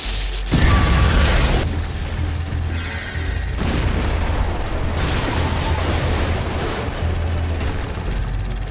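Colossal Titan transformation blast from the Attack on Titan anime, season 4: a sudden loud boom followed by a long, heavy rumbling roar with further deep impacts rolling through it.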